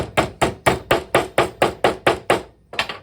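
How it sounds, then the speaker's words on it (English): Wooden pegs hammered into wood during a model assembly, a run of about twelve sharp, evenly spaced knocks, close and loud, with a short gap before the final blows. "You just gotta make sure your pegs are lined up before you hammer them in."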